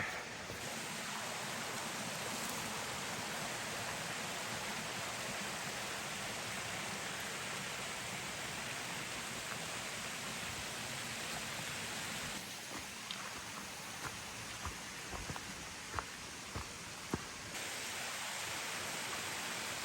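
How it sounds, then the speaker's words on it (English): Continuous rushing water streams along steadily, a broad hiss of a rain-fed creek flowing on a hiking trail, with a few faint drips and clicks toward the end. "these creeks are flowing pretty nice."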